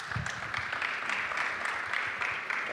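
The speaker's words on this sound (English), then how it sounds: "Can we give him a round of applause?" Summit audience applauding steadily, a moderate, even patter of many hands clapping throughout with no talk.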